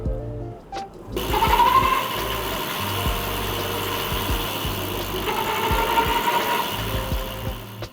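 An electric bike's hub motor runs under pedal assist during a cadence sensor test, giving a close, steady whirring drone with a rising whine that starts abruptly and holds, mixed with faint mechanical ticking.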